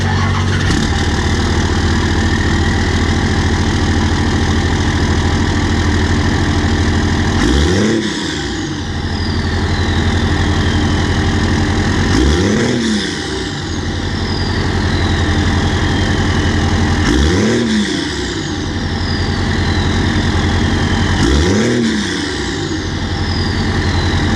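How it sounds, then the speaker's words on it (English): A loud 1996 diesel pickup engine runs steadily, revved up four times at even intervals with rising and falling roars, a deep throaty rumble throughout from a 4-inch turbo-back exhaust ending in an 8-inch axle dump. "get a start up here for you, this one, and a couple revs."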